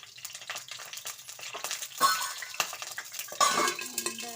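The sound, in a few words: stirring tempering spices in a pan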